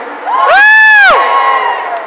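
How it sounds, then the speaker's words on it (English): A crowd at a Crufts dog display cheers loudly in a short burst of whoops and shouts that swells and fades within about a second, close and dominant. "Your side is cheering a bit more."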